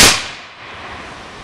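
A single sharp rifle volley cracks at a cemetery stone ceremony, loud and sudden, then rings out and decays into outdoor ambience.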